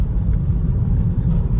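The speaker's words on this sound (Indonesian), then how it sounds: "Tuh truk-truk kayak gini" Low, steady rumble of heavy trucks rolling over a rough concrete road, continuous and fairly loud throughout, with no voices.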